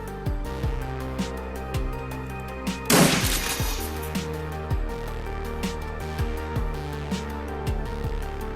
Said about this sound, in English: Shotgun time.